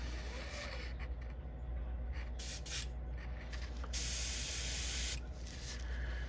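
Iridescent electric blue spray paint hisses through a stencil onto a Berkley Flicker Shad 7 crankbait, in several short close bursts and one longer steady spray.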